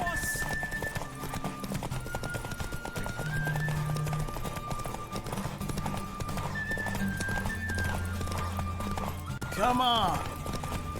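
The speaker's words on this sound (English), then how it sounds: "Don't spare the horse." Hooves clip-clop rapidly as a horse gallops during a race in The Witcher 3, with game music underneath, a brief spoken line and a neigh near the end.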